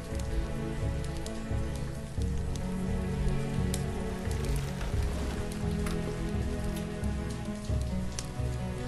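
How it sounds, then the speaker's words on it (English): Steady rain from the video game Banished, a continuous even patter of droplets on surfaces with scattered sharper drips, under a low droning game backdrop, with no talk. "I wonder if this environmental rain is helping to put out the fire."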